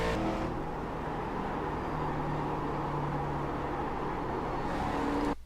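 Ford Mustang race car engine in iRacing at Watkins Glen, a loud steady drone held through a gear shift and throttle lift, cutting off abruptly at the end, no speech.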